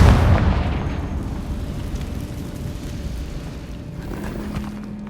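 The Confringo fire spell blasting in Hogwarts Legacy, a heavy booming burst at the start that decays into a long rumbling tail of debris and low roar.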